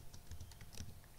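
Quick burst of keystrokes on a computer keyboard, entering a yum install command on CentOS 7 Linux, close and soft with a rapid uneven rhythm, no talking.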